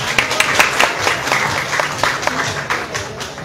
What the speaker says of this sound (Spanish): Nuevamente le brindamos un fuerte aplauso.